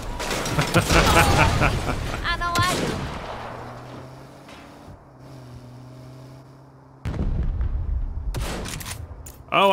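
Gunfire in the Saints Row video game, with loud bursts of shots early on and again near the end, mixed with game effects and someone talking over it.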